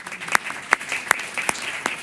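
Sparse applause at a government commission meeting, a few distinct claps spaced evenly over a soft murmur of clapping from a small group in the room.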